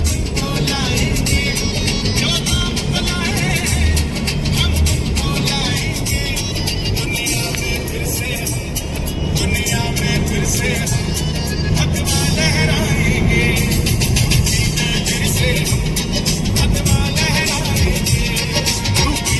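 Steady low road rumble inside a moving car on a family trip to Vrindavan, a broadband drone holding loud and even throughout with no clear talk on top.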